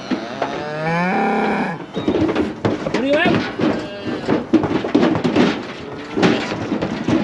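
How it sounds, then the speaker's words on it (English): Cows on a farm, with calves nearby, moo loudly and close, one long call followed by further lows and shuffling as the herd approaches, while a person talks over them. "Here come the other cows to see what's on."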